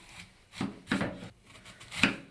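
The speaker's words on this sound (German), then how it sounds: "Und jetzt schneide ich meine Äpfel so zu" Knife slicing apples on a board for a tarte tatin, three distinct cuts in a slow rhythm, close and fairly quiet.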